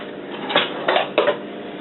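A spatula scrapes lasagne sauce from a pan, giving three short scraping strokes close by over a steady low background hiss.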